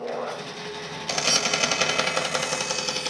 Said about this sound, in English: we're going to cut into it and then stop and turn off the bandsaw